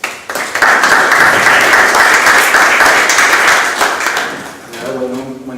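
An audience at a literary conference round table applauds to welcome a speaker; loud, dense clapping rises quickly, holds for about four seconds, then fades as a voice begins to speak.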